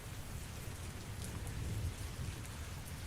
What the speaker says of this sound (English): my windows are open for the rain outside